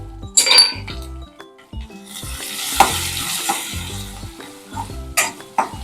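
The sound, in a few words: tempering of garlic, green chilli and asafoetida sizzling in pan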